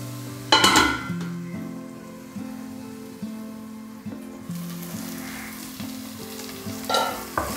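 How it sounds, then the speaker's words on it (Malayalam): Tomatoes are stirred into onions frying in a pan for a Kerala-style roasted-coconut chicken curry. A clank opens a steady sizzle, with rhythmic stirring strokes throughout and another utensil knock near the end. "ഇതിലേക്ക് ഞാൻ തക്കാളിയുടെ ചേർത്ത് കൊടുക്കുകയാണ് ഒന്ന് ഇളക്കി കൊടുക്കാം"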